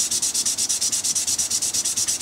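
A Tusq guitar nut for a Telecaster is scraped back and forth on a flat synthetic marble countertop surface, making a fast, even run of rasping strokes, close and fairly loud with no talking.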